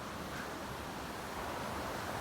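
Steady, broad rushing water roars continuously with no pauses, soft and distant, like falling water heard from nearby.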